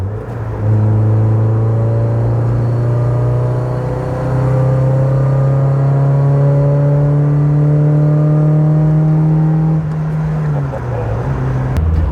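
A 1986 Toyota AE86 Corolla GT engine revs high past 7,000 rpm and holds a rising, sustained whine for several seconds, loud and close, then drops back as the revs ease off.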